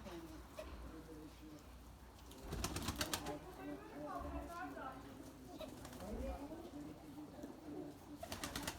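Erzurum white breeding pigeons cooing in a loft, soft repeated coos with bursts of wing flapping, while someone talks over them.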